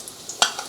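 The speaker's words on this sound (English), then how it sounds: "get a good sizzle on." Marinated beef strips hit a very hot pan with a brief, bright sizzle that flares suddenly and fades within a second, close and fairly loud.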